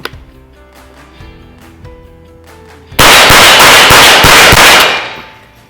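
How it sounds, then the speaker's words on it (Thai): A Ruger 10/22 rifle fired rapidly outdoors at a target about 25 meters away. A quiet, faint stretch gives way to a loud, fast burst of about a dozen sharp shots that ends with a short decay. "เดี๋ยวผมจะยิงเร็วๆเลยนะครับ"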